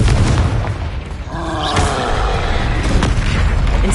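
A loud magical explosion blast from the Confringo fire spell in the video game Hogwarts Legacy, a heavy boom followed by a roaring, crackling rumble that stays loud for several seconds.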